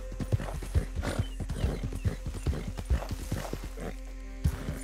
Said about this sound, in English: I think this horse, it seems quite fast.